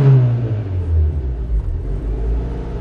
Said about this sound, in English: If I press on the gas pedal and engine will get more air anyway